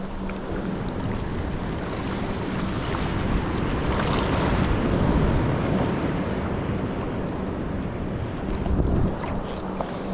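Ocean waves at Kovalam Beach on the Arabian Sea roll and wash ashore in a steady, loud rush, with strong wind buffeting the microphone throughout and no voices.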